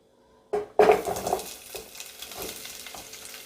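Chopped onions hit hot oil in a pan for a chicken curry, giving a sudden loud sizzle that settles into steady frying crackle, with a few clinks of a spoon stirring.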